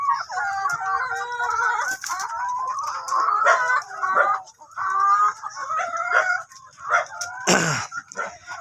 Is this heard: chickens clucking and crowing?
yes